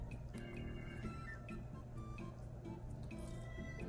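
Water squeezed from a small plastic toy milk jug into a toy boy doll gives a short, close run of quiet wet drips and squishes over a steady low hum.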